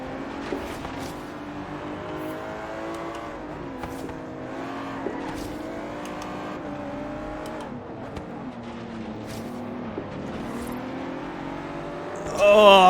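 Aston Martin V12 Zagato race car in Forza Horizon 3, engine wailing and shifting pitch as it revs up and down through gears during a race, continuous and fairly steady, ending with a sharp louder burst.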